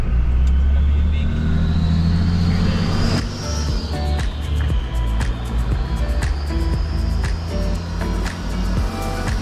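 A 4WD vehicle drives along beach sand, its engine rumbling loudly and steadily with a rising rev partway through, mixed with wind buffeting and scattered knocks from the cabin.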